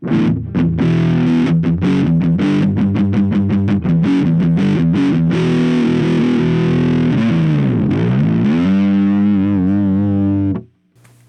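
Distorted electric guitar through a small NUX Mighty Lite BT plastic-cased modeling amp: rapid choppy chugging chords for several seconds, then a sustained bending note ringing out before cutting to silence, loud and alone.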